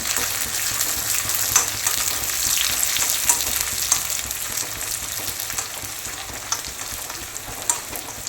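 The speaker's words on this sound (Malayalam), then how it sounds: "നല്ലപോലെ മൂത്ത് വരട്ടെ എല്ലാം നല്ലപോലെ മൂത്തിട്ടുണ്ട്" Dried red chillies and curry leaves frying in a pan, a dense continuous hiss and sizzle with scattered pops and crackles and brief stirring scrapes, close and steady, with no one talking.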